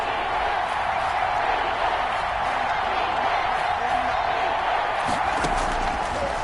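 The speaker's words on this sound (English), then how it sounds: "the crowd getting into it as we come up on a big 3rd down" Stadium crowd at a football game roars steadily, a dense sustained wall of cheering and noise building ahead of a big third-down play, loud and continuous throughout with swells near the end.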